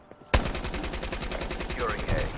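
Rapid automatic gunfire in a first-person shooter game, a loud burst of evenly spaced shots firing continuously right up close, with faint voices underneath.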